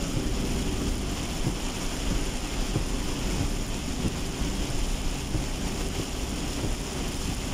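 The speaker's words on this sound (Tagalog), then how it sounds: "Bakit ang lakas ng ulan dito sa Barutag" Heavy, steady rain in Barutag, Iloilo, Philippines roars continuously with a dense low rumble underneath, like distant thunder rolling through the downpour; no voices.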